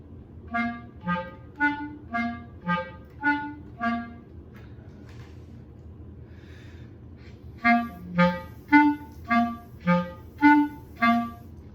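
A clarinet plays a run of short, detached staccato notes in an even rhythm, pausing briefly before a second, louder series of crisp notes.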